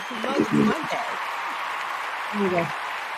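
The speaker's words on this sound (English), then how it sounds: "We got to clap for real." Steady clapping from a group fills the clip while voices talk over it.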